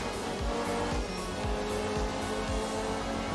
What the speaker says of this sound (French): Oh que j'aime ce bruit, il est très agréable et il correspond à la Stratos.